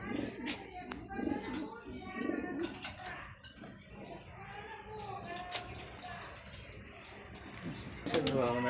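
Racing pigeons coo softly and repeatedly close by, with occasional wing flutters, under ongoing conversation.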